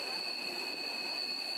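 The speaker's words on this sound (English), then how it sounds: "just the green train" A green train runs on the Flam Railway high in the mountains, producing a steady rolling rumble with a sustained high metallic squeal from the wheels, continuous and moderately distant.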